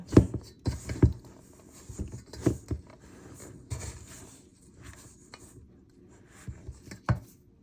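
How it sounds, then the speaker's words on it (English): Butter and sugar mixed by hand for a Jamaican coconut toto cake batter, irregular soft knocks and scrapes of a utensil against a bowl, close and fairly quiet with gaps between strokes. "So we'll mix up the butter with the sugar"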